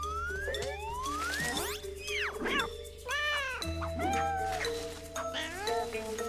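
A big cartoon cat meows in a run of sliding, high-pitched calls that rise and bend, close and loud, with plinking music and effects underneath.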